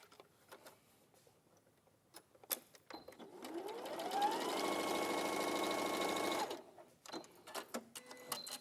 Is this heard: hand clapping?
no